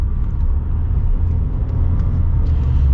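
A 2023 Subaru WRX GT with an automatic transmission is heard from inside at higher RPM, a loud, steady low engine rumble that holds level and close.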